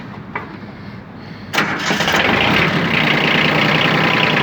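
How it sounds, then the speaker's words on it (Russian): A Yanmar F155 mini tractor's engine cranks briefly and catches, then settles into a steady, loud diesel idle close by. "Давайте заведем, послушаем, как работает данная модель."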